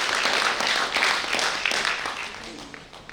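Audience applause at a Hindi poetry recital (kavi sammelan) in New Delhi, a steady wash of many hands clapping throughout, moderately loud with a busy, crowded texture.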